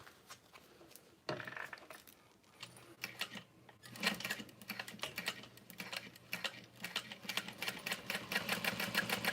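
Domestic sewing machine top stitching a tote bag seam at a slow pace, with bursts of rapid mechanical stitching that start and stop, plus clicks and fabric handling in between, close up with no talking.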